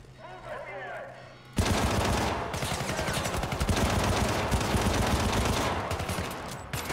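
Repeated pistol gunfire in the shooter game Syndicate, a loud dense burst of sharp shots starting abruptly and continuing steadily, mixed with game effects and a voice talking over it.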